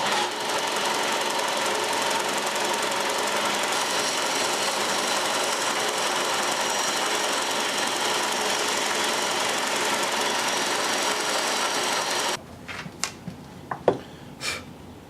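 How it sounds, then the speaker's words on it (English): A machine sander grinds steadily at a carved wooden skull for about twelve seconds, loud and continuous, then stops and leaves a few scattered knocks and handling noises. "So let's sand this off, at least roughly."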